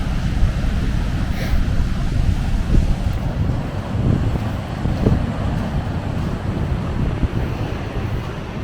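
Rough ocean surf on Florida's Panhandle coast crashes continuously with gusting wind buffeting the microphone, a dense, steady roar with no voices.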